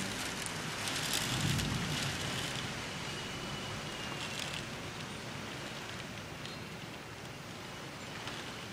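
A tropical squall lashes the trees and palapa outside a bedroom window, with steady rain roaring and wind gusting throughout, and a faint low rumble of thunder early on.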